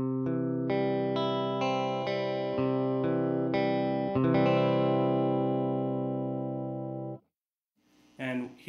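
Dry electric guitar straight into a tweed tube amplifier, several picked notes and a strummed chord ringing out cleanly and decaying for a few seconds, close and fairly loud, followed by a short spoken remark at the end.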